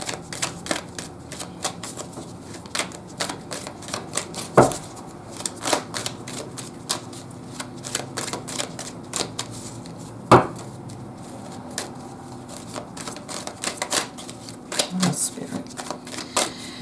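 Tarot cards being shuffled and drawn, with a long run of crisp, rapid card snaps and riffles and a few sharper slaps, close and clear, while a person talks over them at intervals.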